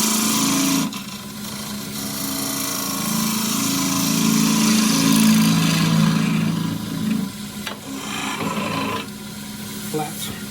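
A wood lathe spins a workpiece while a 3/8 spindle gouge cuts a small wooden race car, giving a steady loud whirring hum with rough scraping texture that shifts as the tool engages, with occasional voice.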